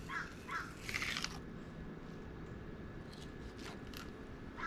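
Harsh caws from a crow near a Gulf coast fish-cleaning spot: two or three calls at the start, then fainter rasps over a steady background hum.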